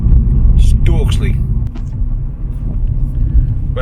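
Heading toward Teesside and the A19 near Stokesley, a car hums along the road as heard from the cabin, a deep steady rumble beneath voices chatting throughout.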